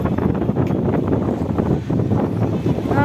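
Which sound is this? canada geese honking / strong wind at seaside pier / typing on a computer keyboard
strong wind at seaside pier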